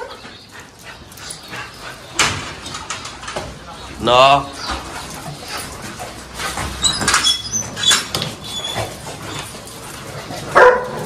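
A pocket-size American Bully dog barks in short bursts and whimpers nearby, mixed with people talking in the room and a few faint bird calls.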